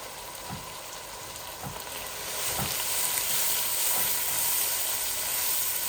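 Chicken pieces hit hot oil in a pot for biryani, a dense hissing sizzle that swells louder partway through, with a few soft low knocks of stirring, close and without voices.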